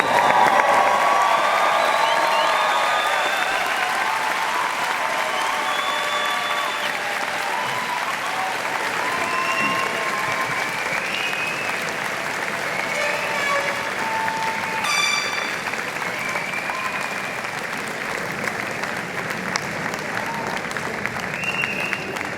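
A commencement crowd at a Drexel computing and informatics graduation applauds and cheers for the graduates, sustained broad clapping through the whole stretch with scattered whoops and shouts rising briefly near the middle.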